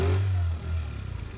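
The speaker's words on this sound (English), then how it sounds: "The 32 makes kind of a dull sound, has a delay when I twist the throttle" A 50cc QMB139 Chinese scooter engine with a Keihin CVK carburetor fitted with a size 32 pilot jet revs from idle, a loud, dull low drone that swells then settles into a faster throbbing pulse, close by.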